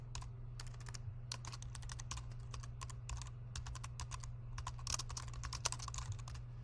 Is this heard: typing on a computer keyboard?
yes